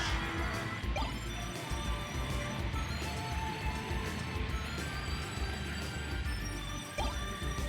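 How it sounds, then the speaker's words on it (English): Waterfall ambience in the video game Castlevania: Symphony of the Night, a dense continuous rushing roar of falling water layered with game music, steady and loud with no talking. "Oh, the awesome sound of the waterfall."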